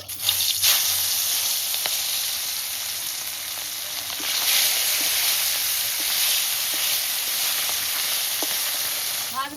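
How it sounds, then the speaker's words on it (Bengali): Parshe fish fry in hot oil in a wok, giving a steady, close sizzle and hiss throughout, with a few faint stirring clicks and no talk. "মাছ ভাজা হতে থাকুক"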